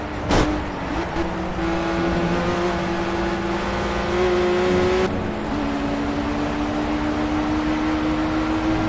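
Racing car engines in Project Cars as a Mitsubishi road car races a BMW, a steady droning engine tone holding high revs with a brief dip and shift midway, under continuous road and wind noise.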